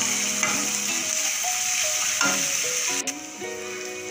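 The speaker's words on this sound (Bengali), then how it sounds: "তো ভালো করে মশলাটা মিক্স করে দেবো পেঁয়াজের সাথে।" Spices and onions fry in a pan with a loud, steady sizzle while a spoon scrapes and stirs them in several strokes, close by, with no voice.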